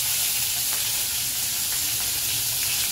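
Cumin seeds and chopped hot green chilies sizzle steadily in hot oil for kande pohe, a dense, close, continuous frying hiss with faint crackles and no talk over it.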